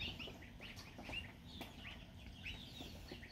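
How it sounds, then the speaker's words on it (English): Faint high peeping and chirping of young ducklings and geese, repeated soft calls scattered over a low background murmur. "These are the baby ducks,"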